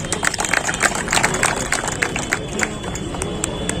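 A crowd at a Gaur Jayanti celebration applauds together, dense continuous clapping that stays loud and steady throughout, with faint voices mixed in.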